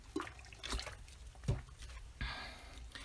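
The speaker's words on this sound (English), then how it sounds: "I'm just having a glug of water" A person drinks water in a few separate gulps, each swallow a short wet glug with quiet pauses between, close to the microphone.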